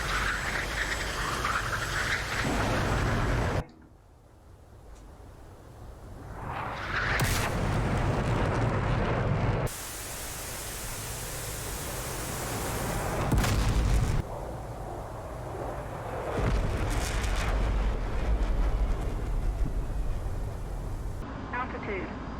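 An F/A-18 Hornet fires a missile in the DCS World flight simulator: a loud burst of launch roar and rushing whoosh breaks through steady cockpit noise and recurs across the stretch, with talk over it.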